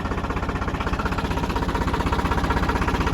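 A TL65 garden-type 4x4 tractor engine running close by, a loud, steady rhythmic chugging with regular pulsing throb throughout, no voices.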